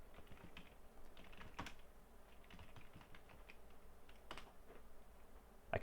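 Fast typing on a computer keyboard while using a chat app, a dense run of close clicking keystrokes with a few louder key hits, no voices.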